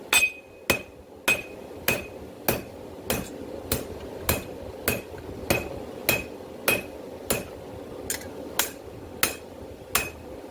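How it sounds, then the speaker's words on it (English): Steel stock for a herb chopper blade is forged and drawn out on a blacksmith's anvil: a steady, evenly spaced series of loud, ringing hammer blows, roughly two per second, struck close by with no talking. "continue to hammer it against the anvil like this, draw it out"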